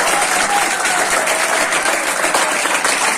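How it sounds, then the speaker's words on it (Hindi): An audience at a school event breaks into loud, continuous applause for a class 10 topper, with many hands clapping densely and steadily from start to finish. "जोरदार तालियां"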